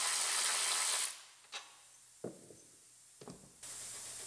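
A ratchet pulls bolts out of a repaired pillar and rocker body panel on an Acura RDX, with a few short, close ratcheting bursts between loud, hissing noise at the start and end.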